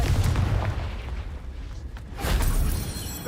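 Repeated explosive blasts of the Confringo fire spell in the video game Hogwarts Legacy, heavy booming bursts near the start and again around the middle, with a rumbling low-end roar between them and no talk.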